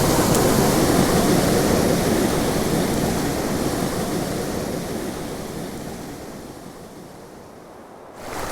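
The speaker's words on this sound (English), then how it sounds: "Big waterfalls like that, they're pretty cool, they're pretty interesting, but they're hard to fish" A big waterfall in Southern Colorado gives a steady, loud broadband roar that fills the whole stretch, easing slightly toward the end with no voices over it.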